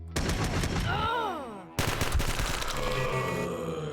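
Turret gunfire in the video game Quasimorph, dense rapid bursts of shots in two stretches separated by a brief gap, loud and close.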